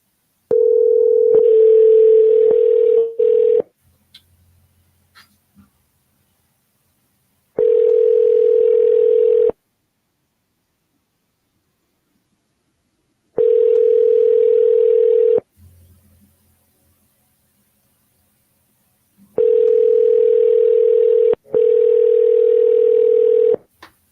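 A phone call rings out while waiting for someone to pick up: a steady ringback tone sounds in long, evenly spaced bursts, about four cycles separated by silent gaps, clear and alone.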